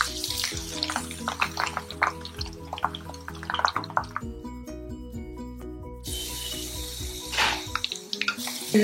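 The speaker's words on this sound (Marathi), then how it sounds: "आता फ्लावर तळून घेणार आहोत, फ्लावर त्यामध्ये तळून घेऊ।" Cauliflower for tava bhaji fries in hot oil, a busy crackle and sizzle with popping bubbles that drops to a softer hiss partway through and then rises again.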